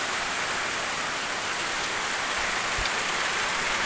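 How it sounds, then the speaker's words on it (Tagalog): Heavy rain pours down steadily during a storm, a dense, even hiss of falling water that stays loud and unbroken throughout. "So, ato tanawon ang kusog kay nga ulan."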